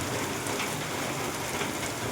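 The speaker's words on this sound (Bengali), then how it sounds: "এই যে বৃষ্টি পড়ছে," Steady morning rain pours onto a shelter roof, a dense, even hiss of drops close by with no break across the short stretch and no voices.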